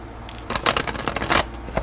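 Tarot cards shuffled by hand in a few quick riffling bursts, close and crisp, with short pauses between.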